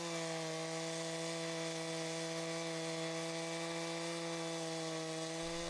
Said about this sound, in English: The Logasol chainsaw sawmill, used in conjunction with a steel chainsaw, is a portable machine dedicated to sawing solid wood